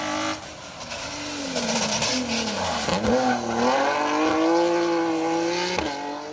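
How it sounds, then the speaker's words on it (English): A rally car's six-cylinder Jaguar engine revs hard and continuously nearby on an asphalt stage at Rally Ceredigion 2023, pitch rising and dipping through gear changes, with a smooth, throaty tone. "That is a Jaguar engine, a 6-pot Jaguar engine"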